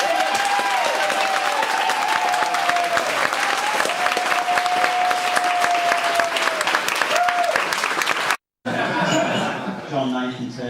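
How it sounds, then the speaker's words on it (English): Audience gives a lady a big round of applause, a loud dense roar of clapping with some laughter mixed in, ending abruptly before a short stretch of nearby talk. "Give this lady a big round of applause."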